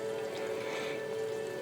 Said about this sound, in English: Need to add a little bit more water.